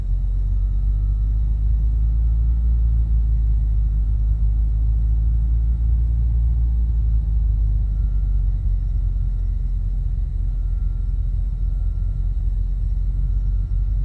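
Steady low rumble of a Beechcraft A36 Bonanza's piston engine idling and taxiing in a flight simulator, a constant droning hum with faint tonal whine above it and no voices.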